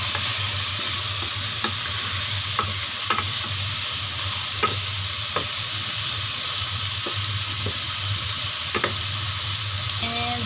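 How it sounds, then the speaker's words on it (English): Pork ribs browning in a hot pan give a loud, constant sizzle, while a utensil scrapes and stirs them with occasional sharp clicks, close up and without talk. "Let's brown them. Okay, let's mix them together."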